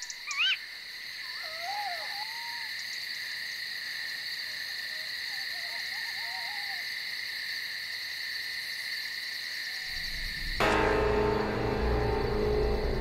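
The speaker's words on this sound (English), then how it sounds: "Hidden where no light can give them away, the owl chicks are waiting for dinner." Owl chicks calling in darkness while waiting to be fed, thin wavering cries repeating at a moderate distance over a steady chorus of insects and frogs, with a sudden louder rustling burst near the end.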